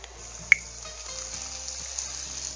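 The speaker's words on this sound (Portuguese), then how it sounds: "Quando a água estiver fervendo, entra no processo de ebulição." Water boiling, giving a faint, steady bubbling hiss close by, with one sharp click near the start and no voices.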